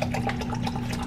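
Chilled Poland Spring bottled water pours into a glass with a steady, close burbling and gurgling for about a second, with no ice and no voices.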